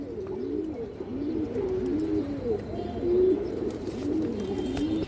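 Stone-eyed pigeons, a kept fancy breed, coo close by in overlapping soft, rolling calls that repeat continuously over a low hum, with faint chirps mixed in.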